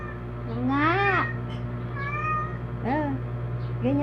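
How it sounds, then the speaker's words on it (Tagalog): Pet cats meow repeatedly at close range, several rising, drawn-out calls spaced across the stretch over a steady low mechanical hum. "Nag-uumpisa na naman umawit ang mga pusa ko"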